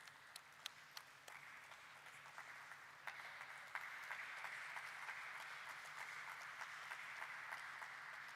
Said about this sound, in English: Please share a round of applause for them